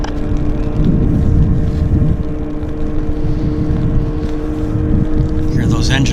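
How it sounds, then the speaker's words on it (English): Heavy jet aircraft engines spooling up at Vancouver airport on a wet runway, a loud continuous low roar with wind noise and voices talking over it. "Hear those engines starting."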